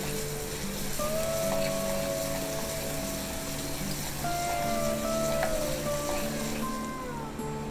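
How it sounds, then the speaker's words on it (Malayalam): Crushed ginger sautés in hot oil for a gooseberry pickle, giving a continuous dense sizzle and crackle at close range, with faint tonal squeaks and background hum layered over it. "ഇനി ഇതിലേക്ക് എടുത്തു വച്ചിരിക്കുന്ന ഇഞ്ചി ചതച്ചതാണ്, അത് ആഡ് ചെയ്ത് കൊടുക്കാം. ഇതൊന്ന് വഴറ്റിക്കൊടുക്കാം."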